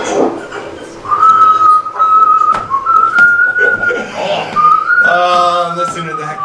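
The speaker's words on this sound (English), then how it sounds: "Listen to that kid whistle." A seven-year-old child whistles on a home recording, a series of clear sustained tones with short gaps, rising into a brighter phrase near the end, fairly close with faint room noise behind.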